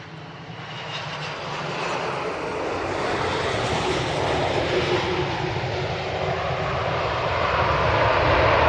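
Airliner on the runway at Manchester Airport using heavy reverse thrust, a loud sustained roar of jet engines that builds steadily and stays strong throughout, heard from a distance outdoors.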